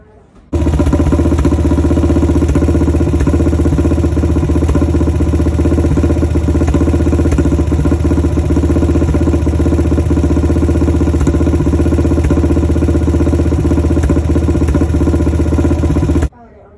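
A 2002 Yamaha Raptor 660 ATV idles close and loud with a steady, throbbing single-cylinder beat, its rhythm broken by small irregular sputters, starting abruptly and cutting off near the end.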